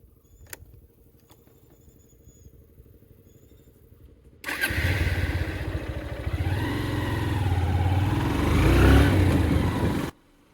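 A motorcycle engine cranks and catches, then idles and revs steadily up close for several seconds before cutting off abruptly, with faint clicks and handling noises beforehand on a ride setting out toward the Wayanad–Ooty state highway.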